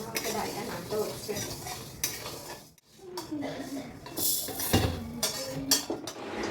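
Mung dal is stirred in a cooking pot at a home stove as it starts to catch and burn: a spoon scrapes and clinks against the metal with a light sizzle, interrupted by a brief pause.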